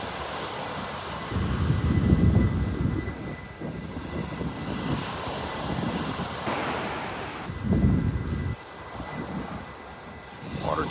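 Ocean waves rolling in at high tide on Vanderbilt Beach in North Naples, Florida, rising in loud, rushing swells every few seconds over steady wind noise, with a distant aircraft drone mixed in.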